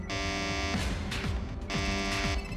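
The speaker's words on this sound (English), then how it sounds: "Sounds like a security alarm." A security alarm from Metal Gear Acid 2 on the PSP blares in repeated long buzzing pulses over a low electronic hum, loud and steady with no talking.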